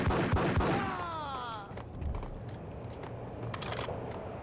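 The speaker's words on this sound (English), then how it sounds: "got the pump action shotgun." Pump-action shotgun fire in the Max Payne video game: a loud burst of blasts early on with a ringing tail, followed by quieter game ambience and faint clicks.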